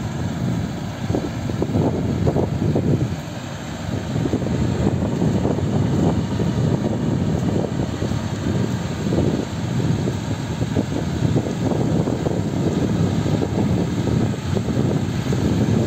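A loud, continuous engine drone from a Zyryanin-112 tracked all-terrain vehicle in summer tundra, with a rough low rumble, steady throughout and close by, with wind buffeting mixed in.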